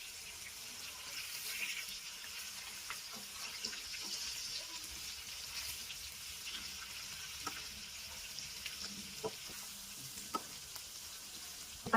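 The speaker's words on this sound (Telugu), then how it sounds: "అన్ని ఇలానే గోల్డ్ కలర్ వచ్చేంత వరకు ముక్కలు అన్ని ఫ్రై చేసుకొని పక్కన పెట్టుకోవాలి" Fish pieces fry in oil until golden, producing a faint, steady hissing sizzle with occasional small pops and light clinks, quiet and without voices.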